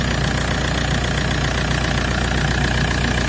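An Alfa Romeo car engine runs steadily after a thermostat replacement, giving a loud, continuous low rumble with a constant drone and no pauses or voices.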